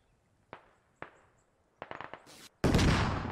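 Rifle fire in the military shooter game Squad: two isolated sharp shots, then a quick burst of several rounds, followed by a louder sustained blast, all close and punchy with quiet gaps between.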